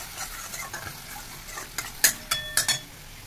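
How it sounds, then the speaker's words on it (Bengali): Spice masala is stirred and sautéed in a pan with a spoon, a soft steady sizzle under intermittent sharp metallic scrapes and clinks of utensil against the pan, close and moderately loud, with no talk. "মশলাটা কষানো হোক।"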